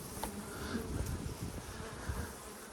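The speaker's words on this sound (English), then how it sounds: "quite a few bees in there" Honeybees hum and buzz around an open hive in a pasture apiary, a soft continuous close drone with faint wind-like hiss and no talk.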